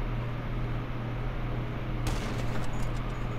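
A heavy sniper rifle fires a single loud, sharp shot in GTA 5 Online over a constant low electronic hum. A short, rattling tail trails off after the blast.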